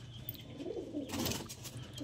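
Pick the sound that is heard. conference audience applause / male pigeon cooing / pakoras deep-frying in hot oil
male pigeon cooing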